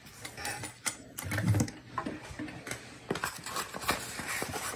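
A sewing machine stitches darts in gusset lining pieces for a bag, producing a short, fairly soft mechanical whirr with clicks and handling sounds nearby.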